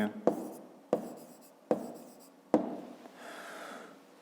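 Handwriting on paper during a maths exercise, four sharp taps each followed by a short scratching stroke at a steady pace, then a softer rustle at the end, close and quiet.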